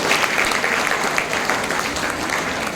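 Audience applause at a higher secondary school speech competition, dense sustained clapping from a crowd filling the hall, steady and fairly loud throughout with no break.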